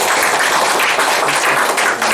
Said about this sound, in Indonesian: Tepuk tangan dong buat mereka semua.